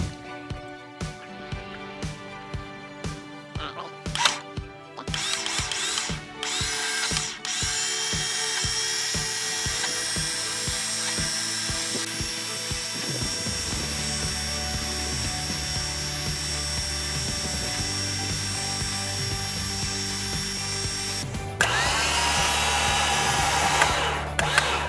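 A winch spools a synthetic winch line back onto its drum, a steady motor whine that runs continuously and fairly loud, with clicks and bumps early on and a slight change in pitch partway through.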